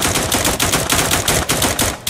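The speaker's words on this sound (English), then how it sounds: "I got to start shooting these dudes. I have an AK" An AK rifle in the video game Warbox fires rapid, loud bursts, a continuous crackling stream of closely spaced shots with brief gaps, up close and with no talking.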